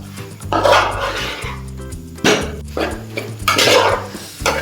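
Mango pieces stirred into masala in a pan for a traditional Kerala mango varattiyathu, producing loud, close, repeated scraping and clanking of a utensil against the pan in several heavy strokes.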